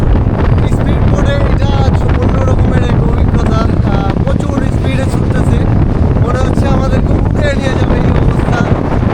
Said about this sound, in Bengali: এই স্পিড বোট ছুটে চলছে দুর্দান্ত গতিতে